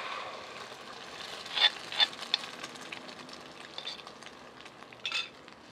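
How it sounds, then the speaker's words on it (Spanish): Egg sizzling in a hot clay cazuela, a soft continuous frying crackle with a few brief louder pops and spits, close and without talk. "ahora sí ya le vamos a poner el huevo"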